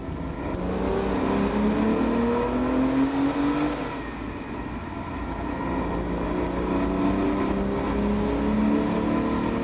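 A convertible sports car engine revving on an open road, heard from inside with the top down, a loud continuous roar that climbs and falls in pitch through the gears, with wind noise over it and no talking.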